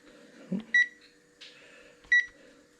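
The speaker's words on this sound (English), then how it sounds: "Just wait for the additional confirmation beeps." Two short electronic confirmation beeps from a Texecom alarm keypad panel, about a second and a half apart, over a faint hum in a quiet room.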